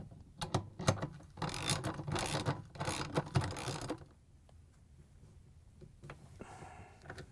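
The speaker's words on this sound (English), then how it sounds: "we're going to grab our 17mm socket again, and we're going to hold the rotor and the stator together while we tighten it down" A 17mm socket on a ratchet tightening a nut on a Samsung washer clutch assembly while the rotor and stator are held together: several seconds of rapid, close ratchet clicking, then quieter handling noises.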